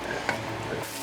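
Red wine hits a hot pan to deglaze stuck bits, giving a brief, fairly quiet sizzle with a light scrape of a utensil across the bottom.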